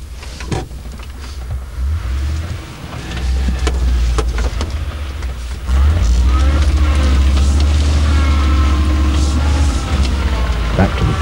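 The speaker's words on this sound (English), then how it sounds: "This time, he engages the centre diff lock with second gear, and up he goes, but with rather a lot of wheel spin." A 4x4 in second gear with the centre diff lock engaged labours up a hill, its engine droning loud and steady and rising further as the wheels spin, with faint voices underneath.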